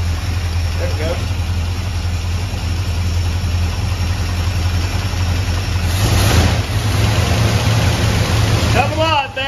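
Engine of a 1979 Chevrolet K-30 truck idling after starting, a steady loud low rumble with a slight tick and one brief rev, while people talk over it.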